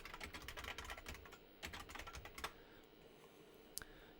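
Someone types on a computer keyboard while testing a stream chat: quick bursts of clicky keystrokes, pausing around the middle, then a few isolated taps, faint and close with no talking.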